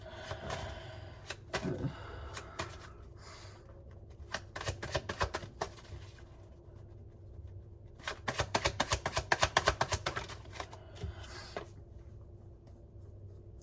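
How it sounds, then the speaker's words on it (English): Riffle shuffles of a deck of cards that once got wet: bursts of rapid crisp flutter, one early and a longer, louder run later, close up with no talking. "I got this deck like wet many years ago and it like never shuffles the same."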